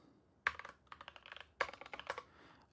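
Quick typing of a command on a computer keyboard, two bursts of crisp, close key clicks with a brief gap between them, and no voice.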